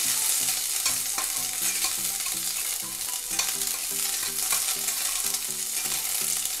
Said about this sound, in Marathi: कढईत 2 मध्यम आकाराचे उभे कट केलेले कांदे घालूया. कांदे सोनेरी रंगावर भाजून घेऊया.